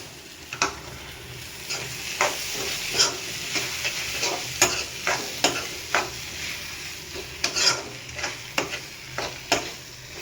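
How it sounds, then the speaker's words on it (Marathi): Moth beans (matki) frying with black masala, a continuous close sizzle broken by regular spatula scrapes and clanks against the pan, about one every second. "मटकी पण फ्राय करून घेऊया"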